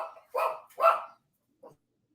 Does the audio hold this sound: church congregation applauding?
no